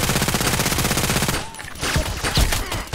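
An H&K MP7 submachine gun fires a rapid full-auto burst in Contract Wars, loud and close, followed by scattered impacts and softer thuds.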